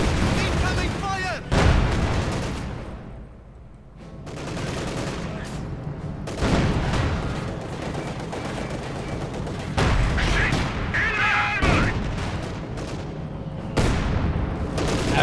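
Dense battlefield barrage of tank cannon and artillery fire in a World War II strategy game with a Panzer IV in play, heavy booms and gunfire crackling continuously and loudly throughout, with voices calling out over the din.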